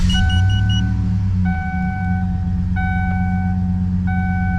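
A 2010-2017 GM truck with a flex-fuel 4.8L or 5.3L V8 idles with a steady low rumble, while repeated electronic chimes and beeps sound in regular pairs over it, loud and close.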